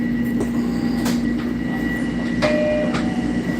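A subway train at Mets-Willets Point station rumbles steadily with a constant electrical hum, punctuated by several sharp metallic clanks and a brief wheel squeal, close and fairly loud.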